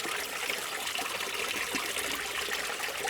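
Water rushes and splashes steadily over rocks in a continuous, close creek, with no voices.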